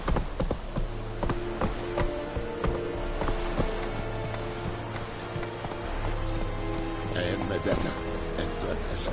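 Roach the horse gallops in The Witcher 3, steady clip-clop hoofbeats with a rapid running rhythm, heard close under overlapping voices and game ambience.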